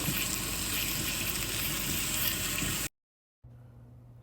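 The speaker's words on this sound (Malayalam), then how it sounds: "വെളിച്ചെണ്ണ ഒന്ന് ചൂടായി മൂത്ത് വരുമ്പോഴത്തേക്ക് അതിലേക്ക് സവാള ഇടുക" A dense, steady sizzle of onion frying in hot coconut oil fills the clip, then cuts out briefly and returns as a faint low hum.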